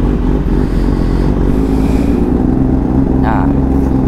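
A Honda CBR1000RR-R superbike engine runs with a loud, steady low rumble close by, with a brief higher whine near the end and no clear revving.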